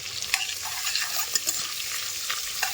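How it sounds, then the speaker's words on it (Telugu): Sliced onions frying in hot oil for a hotel-style prawn pulao, a soft continuous sizzle with a few light clicks of a spatula against the pan. "ఉల్లిపాయలు అయితే మంచిగా బ్రౌన్ కలర్ వచ్చే వరకు మనం వేయించుకోవాలి"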